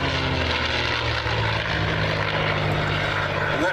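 Allison V-1710-powered WWII fighter plane flying past, a steady loud propeller-engine drone that holds throughout with no break, heard over a crowd at an air festival.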